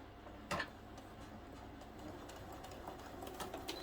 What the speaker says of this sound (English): grab that end first and pop that under your machine, and we're just going to do a top stitch all the way down